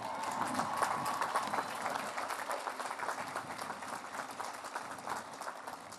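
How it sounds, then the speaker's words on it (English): Graduates at a university commencement applaud themselves, a broad wave of clapping from a large crowd that swells early and then slowly thins, with faint cheers mixed in. "Give yourself a round of applause."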